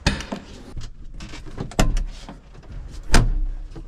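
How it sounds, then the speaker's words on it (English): A farmhouse door swinging shut and latching, with several knocking thuds and clunks of varying loudness spread across the clip, close by and with no talk. "The door closes so much better now since there's the right amount of tension right there."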